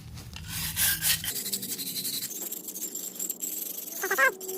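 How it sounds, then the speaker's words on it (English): Rusty weight plate being scrubbed by hand in a garage, a steady rasping rub of bristles or abrasive against metal, close and continuous across the clip with a few brief louder strokes near the end. "let's just kind of scrub away"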